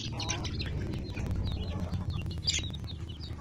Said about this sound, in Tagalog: ito na po yung mga gansa